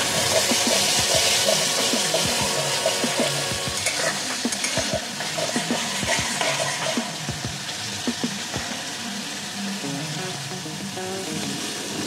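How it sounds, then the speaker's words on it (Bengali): Bengali masala with coriander and cumin powder frying in a pan for hilsa fish curry, a continuous sizzle under repeated scraping stirs, close and steady throughout. "ধনিয়া পাউডার, জিরে পাউডার দিয়ে ভালো করে কষিয়ে নেব।"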